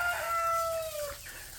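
A rooster crows once among a hen and her chicks in a pen, a clear drawn-out call that falls away, with faint background clucking and no talk.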